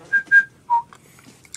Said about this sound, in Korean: 저는 휘파람 불러라면 항상 좋아하니까.